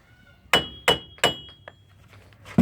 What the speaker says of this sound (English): Get my hammer, knock it in there a little bit.